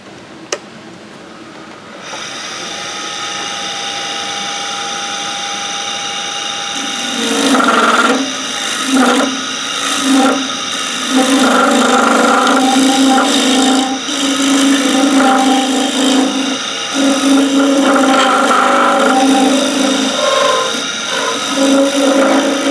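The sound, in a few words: bowl gouge cutting wood from turned bowl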